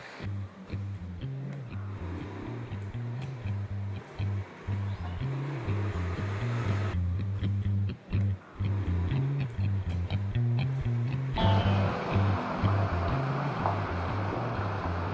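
Sea waves wash steadily onto a beach in Puglia, Italy, a constant near surf roar with low rumbling and breezy hiss throughout.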